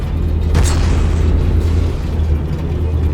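A cannon shell slams into the side of a fail ship during a From The Depths battleship tournament, a single loud boom over a constant low engine-like rumble of battle.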